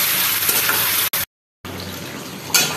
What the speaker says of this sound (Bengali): এই দেখো বসিয়ে দিলাম ডিম কষানো হচ্ছে।